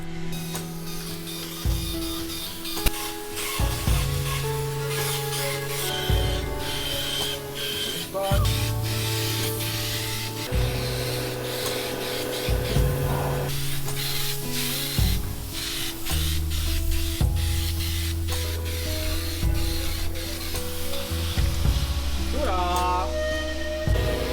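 A paint spray gun hisses in repeated bursts of varying length during a final spray of a boat, with mechanical clicks and shuffling between passes.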